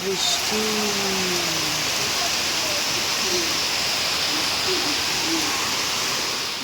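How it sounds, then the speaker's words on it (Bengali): Heavy monsoon rain pours steadily, a dense unbroken hiss throughout, with a few faint tonal calls or voices drifting under the downpour. "এদিকে দেখো কি ঝমঝম করে বৃষ্টি নেমে গেছে"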